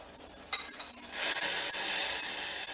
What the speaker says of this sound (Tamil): தண்ணி நல்லா கொதிக்குது.